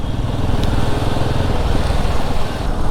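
A Royal Enfield Himalayan 450 motorcycle rides home after an engine oil change, its engine thrumming loudly and steadily with a rough low pulse under rushing wind noise, with no voices.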